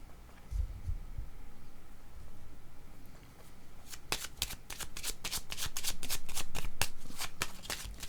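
Playing cards are shuffled, with a soft rustle at first and then a fast run of crisp riffling snaps, close and clear, with no talking.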